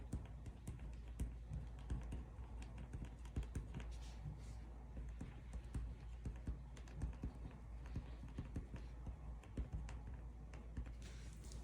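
Typing on a computer keyboard at a desk, a continuous run of quiet, uneven key taps throughout with no talking.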